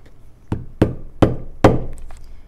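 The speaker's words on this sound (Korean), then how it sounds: "목탄을 항상 수직으로 뚫어 주시고요" Leather pricking chisel struck with a hammer to punch stitching holes in leather for a small pouch, four close, sharp thunks in a steady rhythm with a few faint clicks afterward.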